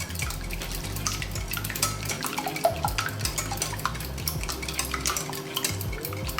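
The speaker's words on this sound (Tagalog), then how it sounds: "Okay, haluin lang natin." Lumpia filling with corn oil and salt being mixed in a bowl, heard close up as a busy, continuous run of wet, sticky churning and clinking, with no talk.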